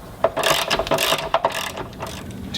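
A ratchet clicks in quick uneven bursts while tightening the bolts of an APT fuel tank guard under a Land Rover Discovery 2, close and fairly loud, with short pauses between strokes.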